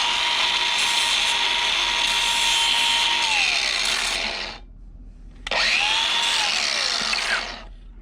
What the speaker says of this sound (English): I'm just going to use my grinder with a little soft pad just to kind of clean those little edges